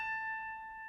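A single prepared piano note muted with a clothespin clipped onto the strings, a clear sustained tone with bright overtones that rings steadily and fades slightly, quiet and alone.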